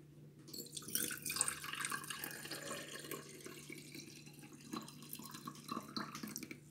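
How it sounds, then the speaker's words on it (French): Freshly boiled water poured into a bottle, a faint, close trickle and splash running continuously with small irregular drips and gurgles. "mon eau bout. Je la mets dans une bouteille."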